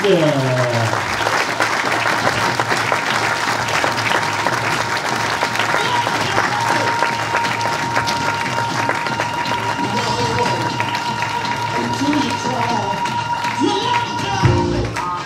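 Loud, sustained applause from a pageant audience, with music playing underneath, fills the whole stretch as one dense wash of clapping, with brief voices rising in the crowd.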